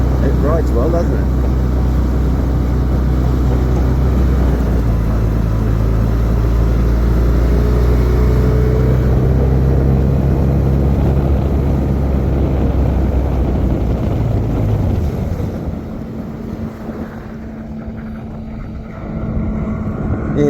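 A motorboat's engine drones steadily while the boat rides over open ocean water, loud and close with wind buffeting the microphone, then eases down briefly near the end before picking up again.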